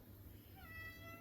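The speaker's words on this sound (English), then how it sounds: "Look at this little whiny thing. That's a whiny kitty." A house cat gives a faint, drawn-out whiny meow indoors, a single thin rising cry over low background hum.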